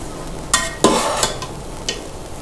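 Cooked pea rice being stirred and mixed in a pot, a few sharp scraping strokes of a spoon against metal over a low background hiss, close and fairly loud.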